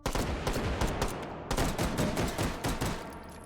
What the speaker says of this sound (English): Was that an SMG?